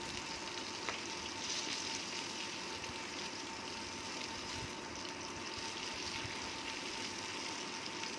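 Fish fries in oil with a faint, even sizzle that crackles steadily throughout, with no voices over it.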